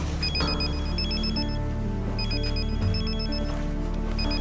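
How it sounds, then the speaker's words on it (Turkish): A mobile phone ringtone rings loudly and close in repeated bursts of bright electronic tones over a steady low hum, the pattern cycling several times without pause. "telefonum çalıyor"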